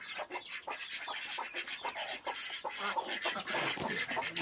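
Hens with four newly hatched chicks make busy clucking and thin, high peeping close by, continuous and fairly loud for the whole stretch, with no talking.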